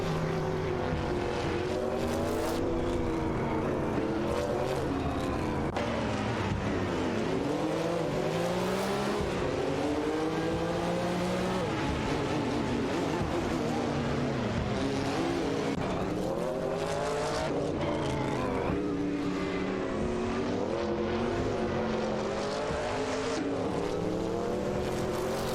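Race cars circle a track in an AI racing event, engines droning continuously at high revs with rising and falling pitch as cars pass, loud and dense throughout without pause.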